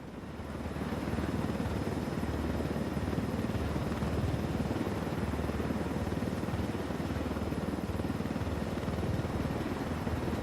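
A helicopter flies low in the video game Ghost Recon Wildlands, its rotor thumping in a loud, steady drone that swells in over the first second and holds with no voices.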